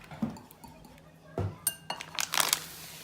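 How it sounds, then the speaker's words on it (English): Whisking the egg mix for keto pancakes: light scattered clinks of a utensil against a bowl, a few isolated taps followed by a quicker burst of rattling strokes near the end, close but soft. "We'll go ahead and whisk that around"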